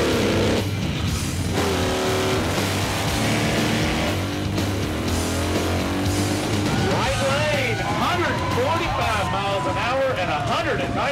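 Motorcycles tied down on a Dyno Drag stationary drag strip rev and drone with loud, sustained engine roar and rising pitch sweeps, while people talk over the noise.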